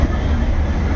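Train at Lumding Junction railway station in Assam, a steady low rumble filling the second with no clear breaks, close and loud, with no voices over it.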